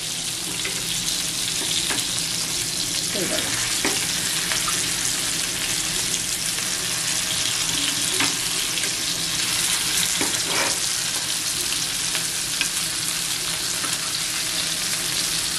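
Prawns fry crisply on a flat tawa just after being turned, masala-coated with no rava, giving a loud, steady, close sizzle with occasional scraping and stirring knocks throughout.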